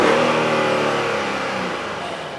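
A loud 2005 VW Phaeton car engine revs hard, then its roar slowly drops in pitch and volume as it settles, with no voices.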